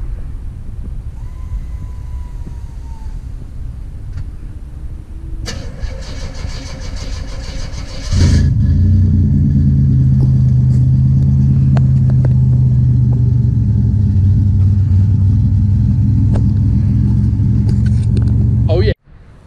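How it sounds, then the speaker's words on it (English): A 1957 Chevy Bel Air starts up and its engine jumps to a loud, steady deep rumble, holding strong at close range before cutting off abruptly; voices talk faintly in the quieter opening moments. "All right, we're gonna go take a little ride for this thing."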